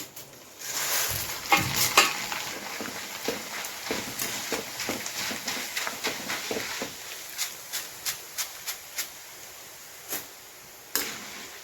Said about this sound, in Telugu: ఇంకా మక్కట్టుకులు అయితే ఎంచుతున్నాను